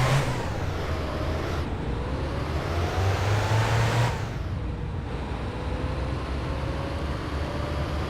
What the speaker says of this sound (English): the tractor still doesn't want to turn off